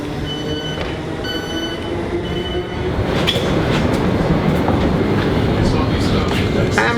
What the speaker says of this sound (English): We're on a Thameslink train